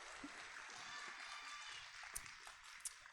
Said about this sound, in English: Yeah, we can clap for them.